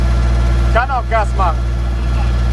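Case tractor engine running at full throttle, a steady loud low drone throughout, with a voice speaking briefly over it.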